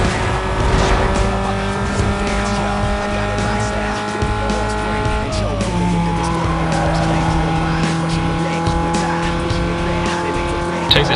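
Race cars in Need For Speed: Most Wanted: a loud, steady engine whine with a gear shift partway through, joined by tire squeal and nearby rival cars.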